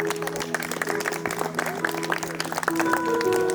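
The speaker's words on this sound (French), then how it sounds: "On peut l'applaudir s'il vous plaît." A crowd applauds a speaker at a French wedding celebration, with steady clapping through the whole stretch and some voices and a sustained musical tone rising near the end.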